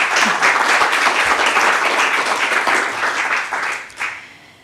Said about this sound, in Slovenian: Jaz mislim, da tudi to zasluži en aplavz.